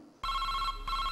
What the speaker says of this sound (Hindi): सर जी, सर जी, टेलीफोन की घंटी बज रही है जी।